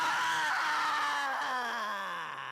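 A sustained human scream processed through Softube Saturation Knob clipping distortion, harsh and gritty with a slowly falling pitch, loud and close, heard alone for a couple of seconds.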